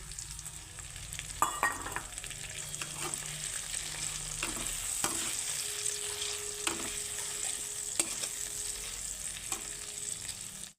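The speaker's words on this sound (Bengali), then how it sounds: "আদা রসুন টমেটো সব ভাজা ভাজা হয়ে গেছে" Ginger, garlic paste and chopped tomato fry together in a pan for a chicken curry, a steady close sizzle with intermittent spoon scrapes and knocks against the pan, no talking.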